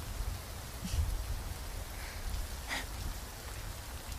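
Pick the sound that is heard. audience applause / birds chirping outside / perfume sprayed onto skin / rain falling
rain falling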